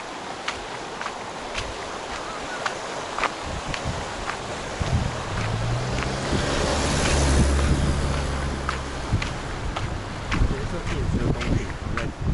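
A small stream flows beside a hiking trail on the Caoling Historic Trail. Its continuous rushing wash is mixed with wind and rustling, and voices can be heard faintly in the background.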